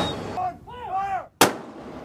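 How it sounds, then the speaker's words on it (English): Naval artillery gun salute fired from the Irish Naval Service ship LE Samuel Beckett leaving Dún Laoghaire harbour, one sharp loud boom standing out over a busy background of crowd and harbour noise. "As the LE Samuel Beckett left the harbour, an artillery gun salute"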